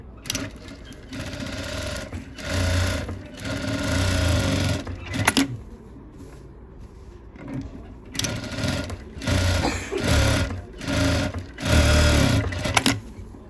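Close sewing machine runs in several bursts while stitching a pattupavadai garment, each whirring stretch lasting one to three seconds, separated by short pauses and quiet handling.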